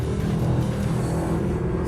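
A Mercedes SLS AMG Black Series V8 holds a steady, loud engine note through a long corner, a continuous growl with slight swells in revs and no voices.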